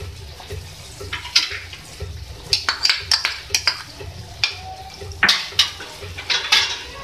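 Yogurt is whisked in a pot while cooking a green eggplant curry, producing quick irregular metallic clinks and scraping taps of a utensil against the pot, close and fairly clear over a soft background.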